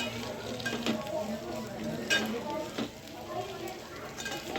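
Potatoes coated in masala sizzle in a pan while a utensil stirs them, giving steady frying hiss with soft scraping and occasional clinks, close and fairly quiet, and a voice talks in the background.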